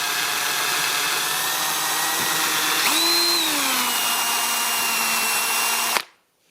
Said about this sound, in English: now we are drilling a small pilot hole down the center